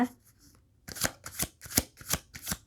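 Tarot cards riffled and slapped down during a love reading, a few soft flutters followed by five crisp, evenly spaced shuffling bursts close to the microphone.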